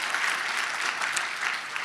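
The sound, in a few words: audience applause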